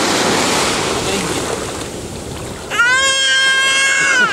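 Sea waves wash onto a beach on a Spanish summer holiday, a steady broadband surf with wind, joined near the end by a high whining tonal sound.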